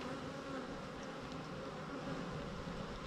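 Honey bees buzzing on a frame of capped brood during a hive split, a dense, steady, close hum of many wings that holds evenly throughout with no talking.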